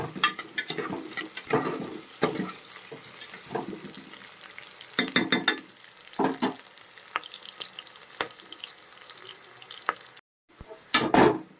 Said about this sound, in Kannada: ಎರಡು ಹಸಿಮೆಣಸಿನ್ಕಾಯಿನ ಈ ಥರ ಸ್ಲೈಸ್ ಮಾಡ್ಕೊಂಡಿದ್ದೆ ಇದನ್ನು ಕೂಡ ಆ್ಯಡ್ ಮಾಡ್ತಾ ಇದ್ದೀನಿ ಸೊ ನೀಟಾಗಿ ಇದನ್ನು ಫ್ರೈ ಮಾಡ್ಕೋಬೇಕು